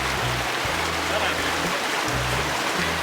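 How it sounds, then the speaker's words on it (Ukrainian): A mountain river flows along a snowy town's central street in Zakopane in winter, a steady broadband rush of water close by, with low rumbling hum underneath and no speech. "Ось тут знову ж ця гірська річка."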